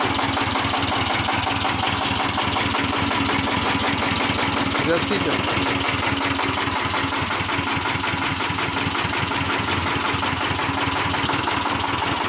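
A Peter diesel engine idles steadily nearby in a Maruti Gypsy with a rhythmic low chugging that runs throughout, while someone talks over it.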